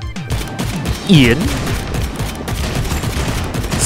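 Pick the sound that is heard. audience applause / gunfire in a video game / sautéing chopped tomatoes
gunfire in a video game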